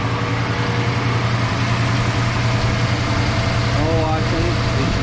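A truck engine idles steadily after its cooling system was flushed, while the truck is still overheating. The low, even rumble continues without a break and stays constant throughout.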